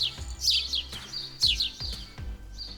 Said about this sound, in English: birds are incredibly vocal